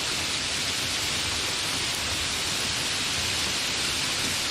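Heavy rain pours down in a dense, even hiss that stays loud and unbroken from start to finish, with no voices over it.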